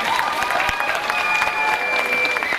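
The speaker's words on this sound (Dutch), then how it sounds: "Mag ik nog één keer een hartelijk applaus voor het Rozentrio 2014" Sustained applause from an audience at the Dedemsvaria 2014 festival event, loud and continuous, with faint tonal whistles and crowd noise running through it.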